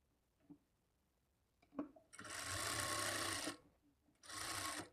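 A sewing machine runs in two bursts while stitching a blouse lining, each a steady whirring run of a second or so, with soft handling clicks between them and no talk.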